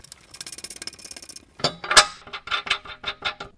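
A hand ratchet tightens the fasteners of a rear bumper being installed on a RAM 1500: a quick, even burst of close clicking, then a pause, followed by slower, louder individual ratchet clicks and metallic clinks.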